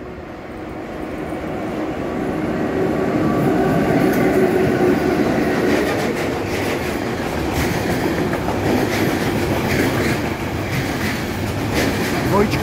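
A freight train passes at night with two twin-unit locomotives hauling coal wagons, a steady loud rumble of wheels and rail clatter lasting throughout, with faint voices in the background.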